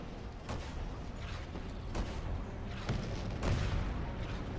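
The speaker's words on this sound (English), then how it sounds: "Oh, there's an artillery." Artillery fire in the Renegade-X shooter, several heavy booming impacts spaced a second or so apart over a rumbling battlefield background.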